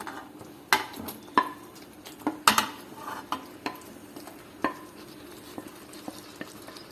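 A utensil stirs fried chicken pieces and mushrooms in a pan with scattered scraping knocks and clatters over a faint sizzle, close by.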